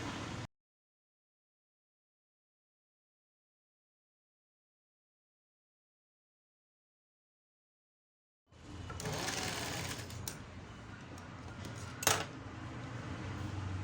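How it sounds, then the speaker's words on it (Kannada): A sewing machine starts after a long silence and stitches fabric beside the canvas on a boat neck kurti. It runs steadily near the end, with a brief clack partway through. "ಸೊ ಇವಾಗ ಈ ಕ್ಯಾನ್ವಾಸ್ ಪಕ್ಕನೇ ಸ್ಟಿಚ್ ಹಾಕ್ಕೊಳ್ಬೇಕು"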